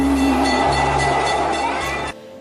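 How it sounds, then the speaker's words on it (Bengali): A Kolkata tram running along street tram lines, a loud, close, continuous rumble and rattle of wheels on rails that cuts off abruptly near the end. "শতবর্ষের ঐতিহ্যের স্মৃতি হিসাবে আজও কলকাতা শহরে টিকে আছে এই ট্রাম।"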